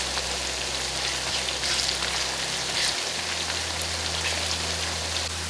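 Onions deep-frying in hot oil for shrimp biryani, a dense, steady sizzling crackle with a low hum beneath, continuous and close without pause.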